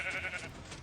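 A sheep bleating in Minecraft, one drawn-out wavering game bleat heard alone at moderate loudness.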